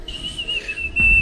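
A sustained high whistle blown in the tactical shooter Rainbow Six Siege holds steady for about a second, then breaks off as a louder low thump and rumble take over.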